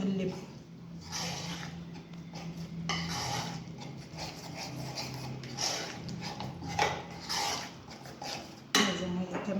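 Chicken wings are stirred in a bowl with black pepper, turmeric, spices and a little water, giving soft scraping, clinking and squishing sounds that continue steadily at close range.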